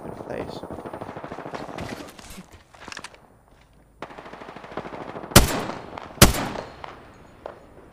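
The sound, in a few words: gunfire in the video game Apex Legends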